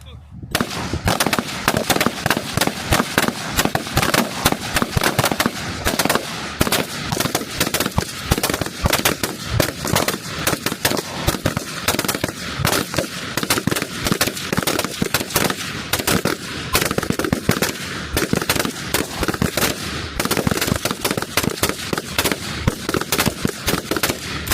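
Marines firing foreign rifles including HK416, HK G3, EF88 and F2000 on a range, a dense, continuous stream of loud, sharp rifle shots, rapid and overlapping, with brief voices mixed in.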